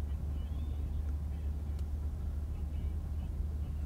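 A 2019 Ford F250 pickup fitted with larger tires cruises along a road at around 50 miles an hour, a steady low engine and road rumble droning evenly throughout, with no voices.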